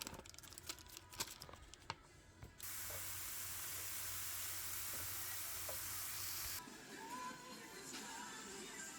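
Truffle-scented olive oil hisses in a hot pan, a sudden steady sizzling rush that holds for about four seconds before dropping to a softer crackle, close and alone after a few faint clicks.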